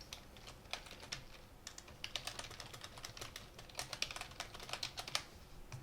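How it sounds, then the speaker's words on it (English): Quick, uneven clicking of keys on a computer keyboard, close and fairly quiet, continuing steadily with no voices. "And now you have a window that you can start typing in."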